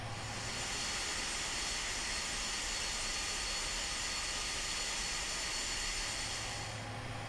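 An Avro RJ85 jet engine spooling up in a flight simulator game, a steady loud roar and hiss with a low hum, sustained evenly for several seconds before easing slightly at the end.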